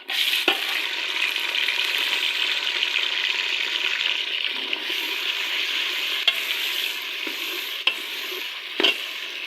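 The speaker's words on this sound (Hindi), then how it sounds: "तो डाल रही हूँ मैं टमाटर और अदरक लहसुन का पेस्ट।" Tomato and ginger-garlic paste are stirred into golden-browned onions frying in a pan, giving a steady, close sizzle with scraping stirs and a few sharp clinks of the spoon.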